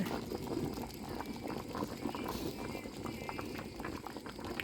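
A sweet coconut milk dessert boiling in a full pot: a faint, bubbling simmer with soft irregular pops and gurgles going on steadily, heard at a distance and low in level.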